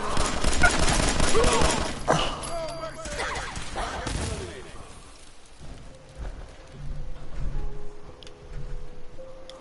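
Rapid volleys of gunfire from a raider fight in the Fallout 4 video game crackle densely for the first few seconds, then fade into scattered shots, ambient hum and voices.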